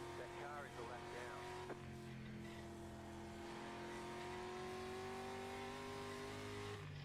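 Street stock race cars in the iRacing sim at Concord Motorsport Park, engines droning and revving continuously with rising pitch as cars run laps, a commentator talking over the steady motor noise.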